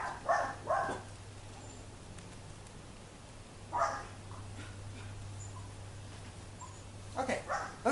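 Faint, high yips and whimpers from a small dog come in short bursts over a low steady hum, with quiet gaps between them.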